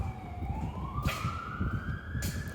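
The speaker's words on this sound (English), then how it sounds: "Sounds like an ambulance" A wailing ambulance siren sweeps steadily upward in pitch over rumbling traffic, fairly close and continuous throughout.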